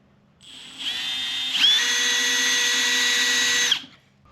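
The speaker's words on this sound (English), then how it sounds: "we drilled out those the bigger holes with the bigger drill bit" A power drill bores holes into metal during a Mercedes Sprinter van install, a close, steady whine that spins up, rises in pitch as it bites and holds for a couple of seconds before stopping.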